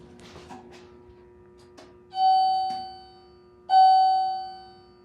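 An Alltech hydraulic elevator in a Lake Forest, Illinois building sounds its arrival chime twice, each a clear electronic tone that rings out and decays. Before the chimes, only faint background noise is heard.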